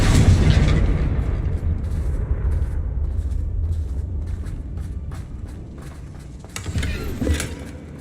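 A Confringo blasting spell explodes in the video game Hogwarts Legacy: a loud, rumbling boom opens, then a sustained roar slowly fades, and a second burst flares near the end.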